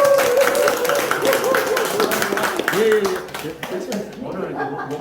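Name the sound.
audience applause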